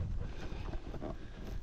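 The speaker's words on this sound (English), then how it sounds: "It's a bit windy today." Gusty outdoor wind buffets the microphone beside a D4D bulldozer on a dusty site, a brief, low rumbling rush that swells and dips.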